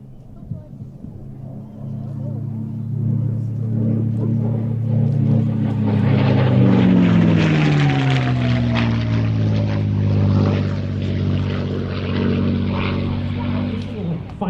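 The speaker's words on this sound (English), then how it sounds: "P51D Mustang." A P-51D Mustang propeller fighter drones overhead, its deep engine hum swelling louder and shifting downward in pitch as it passes, then holding a steady, loud rumble.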